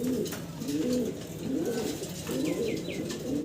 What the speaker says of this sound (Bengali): মাশাআল্লাহ জার্মান বিউটি হোমা দেখাচ্ছি, সিঙ্গেল এক পিস কবুতর